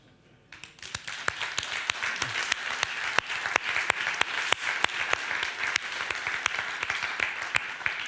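An audience applauds the logistics sector at a warehouse-building conference, a dense burst of clapping that starts abruptly and holds steady and loud, with sharp individual claps standing out.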